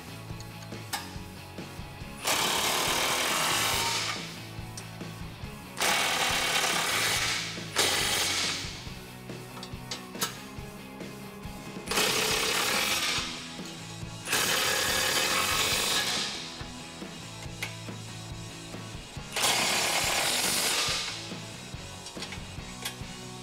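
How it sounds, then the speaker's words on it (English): A ratchet with a 17 millimeter socket tightening the bracket bolts of HD drop side step bars on a 2005-2019 Toyota Tacoma Double Cab, six loud, steady clicking runs with brief pauses between them. "Grab a 17 millimeter socket and 16 millimeter wrench and tighten these down."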